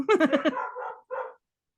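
A female dog barks in a quick burst of four or five sharp, close yaps, then trails into two softer, drawn-out whining barks in a quiet indoor setting.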